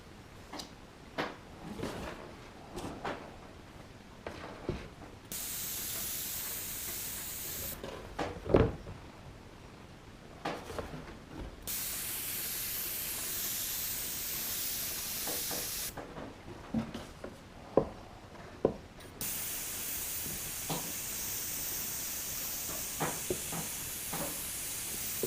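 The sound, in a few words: airbrush spraying paint on model railway scenery rocks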